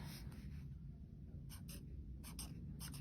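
A pen or pencil scratches across paper in short bursts of handwriting, quiet and close, with brief pauses between strokes.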